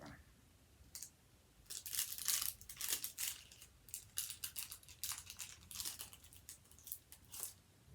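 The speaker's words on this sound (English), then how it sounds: "Just cut it with the scissors, Deborah." Crisp snipping and crinkling as scissors cut through paper, a flurry of irregular cuts and rustles close up, fairly quiet overall.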